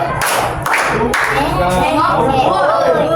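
Classroom children clap the 'tepuk malam' clap-game pattern together: a few sharp group claps in an uneven rhythm, with lively voices and chatter continuing around and after them.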